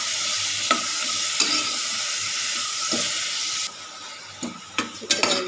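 Chopped flat beans frying in a pan, a steady sizzle punctuated by occasional stirring knocks, quieting partway through before a cluster of louder scraping clatters at the end.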